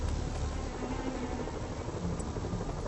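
A helicopter flies overhead in the video game Marvel's Spider-Man Remastered, giving a steady, even rotor whir and engine rumble that holds constant for the whole stretch at moderate loudness, with no voices.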